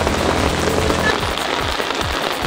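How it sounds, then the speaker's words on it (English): Rain falls steadily in a dense, even patter, with a few low thumps near the end and no talk over it. "It's raining."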